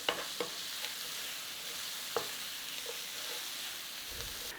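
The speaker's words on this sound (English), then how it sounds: "So we need to start sauteing these onions a little bit." Onions coated in spice mix sauté in a pan, a soft steady sizzle with a few light clinks and scrapes of stirring, no voices.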